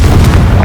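A Confringo explosive spell blast in Hogwarts Legacy, a very loud, brief, saturated boom filling the moment with dense rumbling noise.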